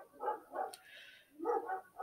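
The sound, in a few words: neighbor's dogs barking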